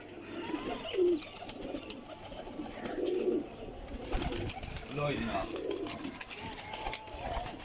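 Pigeons, Chinese-breed birds with red eyes, coo softly in repeated low throaty phrases close by while someone speaks intermittently over them.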